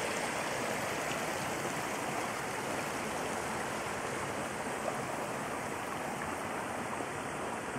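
Doby Creek water flows over rock formations in June, a steady, close rushing hiss and babble that continues evenly throughout with no voices.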